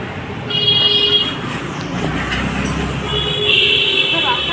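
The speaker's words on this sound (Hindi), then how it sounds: "रोड ट्रैफिक का थोड़ा सा वो आवाज़ आ रहा होगा" Road traffic passes on a street: a steady roadway hum with a distant horn toot or two sits under the sound of people chatting nearby.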